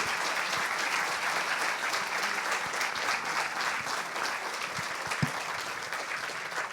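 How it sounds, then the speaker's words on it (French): An audience at a French lecture on artificial intelligence applauds, a dense steady wash of many hands clapping that holds throughout, with a few louder individual claps standing out. "je crois qu'il faut vous applaudir formidablement bien."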